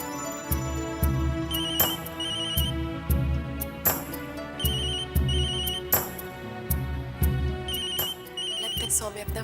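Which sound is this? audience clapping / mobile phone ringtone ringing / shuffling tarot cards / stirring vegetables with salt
mobile phone ringtone ringing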